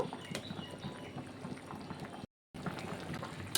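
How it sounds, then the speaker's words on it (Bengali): Thin fish curry broth with fried pabda fish bubbling in a pan, a quiet, close, steady burble of boiling liquid with a brief cut to silence midway. "তরকারির ঝোলটা কিন্তু ফুটে গেছে"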